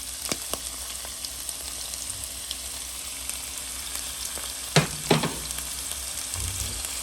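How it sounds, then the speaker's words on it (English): Onions and jalapenos frying in hot oil: a steady, soft sizzle runs throughout, with a few sharp pops and spatters partway through and no talking. "Whoa, I've got hot oil. We're going to put the onions and the jalapenos in."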